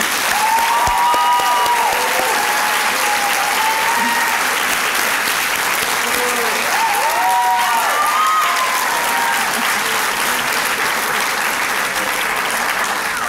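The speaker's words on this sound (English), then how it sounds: "Yeah, you can clap." An audience at a graduation ceremony claps steadily for the graduates, a dense, sustained round of applause from a large crowd, with a few whoops and cheering voices rising over it.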